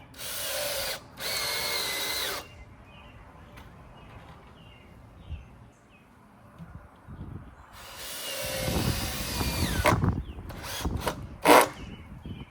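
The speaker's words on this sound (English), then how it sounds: "So we'll sink our second screw in each." A power drill whirs in short bursts, then a longer rising run as a screw is driven into wood, with quiet pauses and handling noise between.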